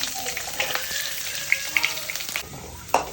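Onion and dried red chilies frying in coconut oil for a tomato chutney, a soft, close sizzle with a few sharp crackles and stirring clicks scattered throughout.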